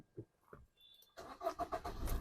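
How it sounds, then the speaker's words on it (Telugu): A Maruti Swift diesel car starts up: a short cranking burst gives way to a steady, fairly quiet idle, heard close with nobody talking. "ఈ వెహికల్ ఒకసారి మనం స్టార్ట్ చేద్దాం మనం."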